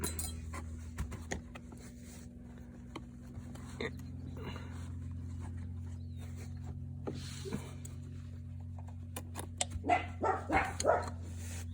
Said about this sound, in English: Got them attack doggies playing around.